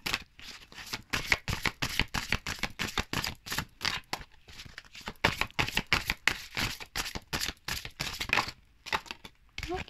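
Tarot cards being shuffled and drawn, a close, soft run of rapid riffling and papery flicks in repeated bursts, no talk.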